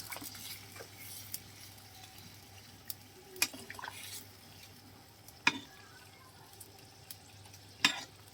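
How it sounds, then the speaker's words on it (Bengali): A spoon stirs fried fish, cauliflower and potato in a pan of simmering curry, giving a soft bubbling sizzle broken by occasional sharp scrapes and clinks against the pan. "ভালো করে মিশে নিচ্ছি"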